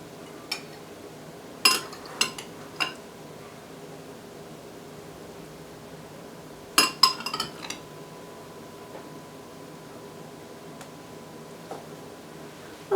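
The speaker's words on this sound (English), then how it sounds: "Now I'm going to put this on the plate" Cutlery clinks and taps against a plate as hamburger gravy and green beans are served, a few sharp metallic clicks in small bursts separated by quiet stretches, close and fairly faint.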